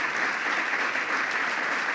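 An audience claps steadily at a Violence Against Women Act reauthorization event, dense even applause filling the room without a break.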